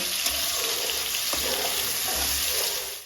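Chopped onion, green chili and nigella seeds fry in hot oil, a dense, continuous close sizzle with faint stirring scrapes running through it.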